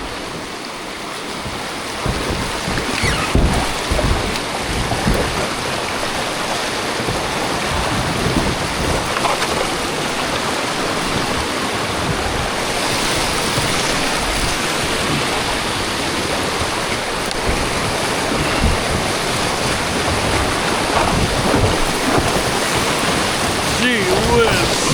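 Rapids on the Devils River rushing during a river float, a continuous loud broadband roar of churning water with wind buffeting the microphone, steady throughout with occasional voices underneath.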